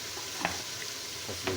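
Masala sizzles softly in a pan while it is fried, with faint scraping and stirring taps of a spoon over a low, steady crackle.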